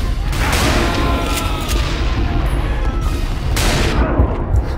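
Gunfire in the video game Call of Juarez: Bound in Blood, with pistol shots fired in a dense, loud barrage of overlapping bangs and booms throughout.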